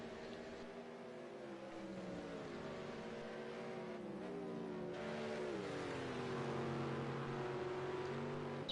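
GT1 race cars in a racing game roar continuously at Rouen Les Essarts, engines rising and falling in pitch through gear changes and a hairpin, loud and sustained with no talk.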